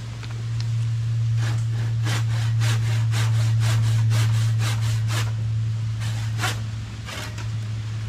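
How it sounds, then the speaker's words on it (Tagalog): Hand saw cutting wood for the handle of a hut, a run of quick rhythmic back-and-forth strokes close by over a steady low hum, with no talking. "Then, lagari ulit."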